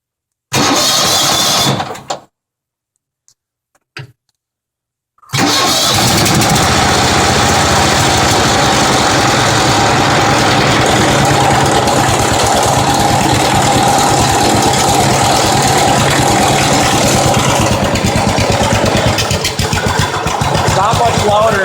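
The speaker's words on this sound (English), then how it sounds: "I'll fire it up here so you can hear the new exhaust." A John Deere 160 lawn tractor fitted with a new exhaust cranks briefly, cuts out, then fires up and settles into a loud, steady, rumbling idle up close, running alone without talk.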